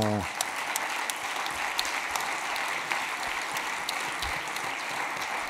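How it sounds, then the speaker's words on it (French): Audience at a closing ceremony applauding the interpreters, steady moderate clapping throughout, heard from a distance with faint room murmur underneath. "je crois qu'on peut applaudir les interprètes"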